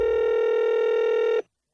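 A single steady telephone dialing tone held for over a second before cutting off, loud and clean, with the start of another tone right at the end, placed during a radio morning show prank call.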